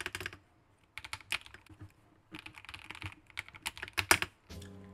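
Clacky keystrokes from a computer keyboard fitted with matcha keycaps, typed in quick irregular bursts with short pauses, close and clear with no talking.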